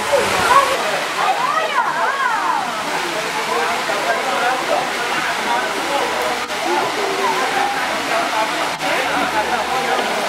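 A canyon waterfall in Capitólio, Brazil roars in a dense, continuous, loud wash of falling water close by, steady throughout with faint voices barely audible beneath it.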